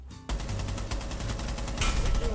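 A rapid automatic weapon in Rainbow Six Siege opens up after a brief lull, firing a steady, loud, close stream of shots with a sharper burst near the end.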